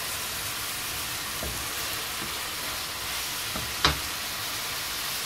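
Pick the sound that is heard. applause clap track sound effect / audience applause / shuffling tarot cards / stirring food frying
stirring food frying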